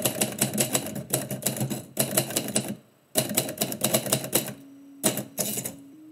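A typewriter is typed on at close range in rapid bursts of sharp key strikes, broken by brief pauses and a ringing bell or carriage tone near the end.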